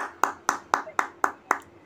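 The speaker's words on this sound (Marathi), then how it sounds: "टाळ्या वाजवा दीपाताईंसाठी." A group claps hands in unison during an informal gathering of women sharing weight-loss experiences, six crisp, evenly spaced claps in a steady rhythm.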